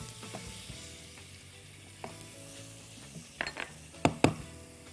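Garlic fries in a pan for Egyptian trotter soup, giving a soft, steady sizzle beneath a few sharp clinks and scrapes of a utensil against the pot, near and fairly quiet.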